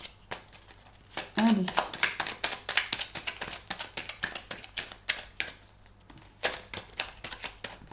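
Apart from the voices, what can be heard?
shuffling a deck of cards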